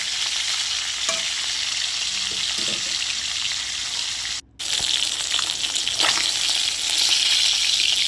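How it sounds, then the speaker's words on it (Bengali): Fish sizzles steadily in a hot pan in a home kitchen, with continuous close frying crackle, a few soft stirring clinks, a brief dropout in the middle, and the sizzle growing slightly brighter toward the end. "এরপর আমি মাছের অন্য সাইডটা ভালোভাবে ভেজে নেব"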